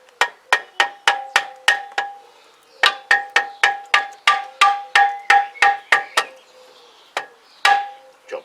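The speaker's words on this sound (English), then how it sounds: "So what I've got to do is just tap this bolt through" A hammer taps a bolt through the foot peg hanger of a Yamaha YBR 125 motorcycle in a series of sharp, ringing metallic strikes, close and steady with short pauses between runs.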